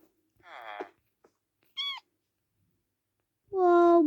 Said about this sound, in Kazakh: Вау, мысық.